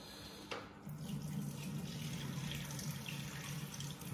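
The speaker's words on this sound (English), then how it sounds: "I'm going to pour off the liquid that's in here." Cooking liquid from chicken wings poured into a kitchen sink, a steady splashing water flow that starts after a short clatter and runs on evenly, no talking.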